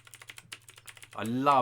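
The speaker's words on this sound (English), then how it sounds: "feel of the keyboard and the clicky sound." Rapid, crisp key clicks from a Logitech G Pro X clicky mechanical gaming keyboard patter in a quick run, close and distinct, then a voice starts speaking over the last moment.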